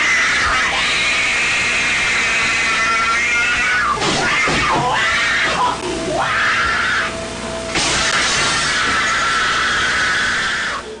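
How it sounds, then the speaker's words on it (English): A man shrieks and howls like a wild animal while wrecking a room, loud and sustained with harsh squealing cries, heavy crashes and thuds mixed in, continuous throughout. "he is shrieking like a wild animal and destroying the whole room"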